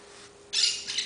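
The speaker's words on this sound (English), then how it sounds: "That's my bird" A pet bird squawks, a sudden harsh burst followed by a shorter second call, close and fairly loud over a quiet background with a faint steady hum.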